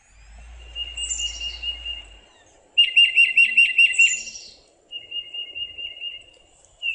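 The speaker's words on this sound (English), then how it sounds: "the tufted titmouse says, Peter, Peter, Peter, Peter, Peter" Tufted titmouse singing its clear two-syllable whistled song, repeated in quick bursts of five to seven notes with short pauses, alone over faint insect and background hum.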